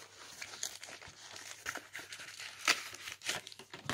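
A Pokemon card packet being torn open, with close crinkling foil and a few sharp tearing bursts scattered through the handling.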